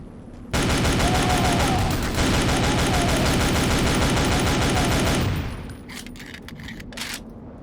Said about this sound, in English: let's try this new assault rifle